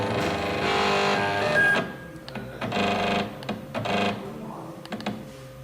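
A sewing machine stitching a few short runs, its fast mechanical whir and tapping starting and stopping in bursts, close by and fairly loud.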